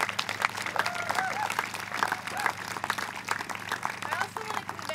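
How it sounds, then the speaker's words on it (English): Crowd applause at an outdoor Black Lives Matter rally, scattered clapping and cheering layered with voices and a low steady hum. "So round of applause to everybody."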